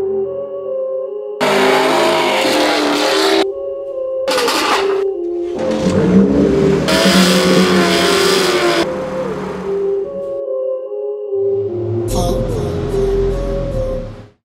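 A 2005 Honda Civic being modified to sound louder revs its engine loudly and close, in several bursts separated by short breaks, with a rough, droning tone and some talk mixed in.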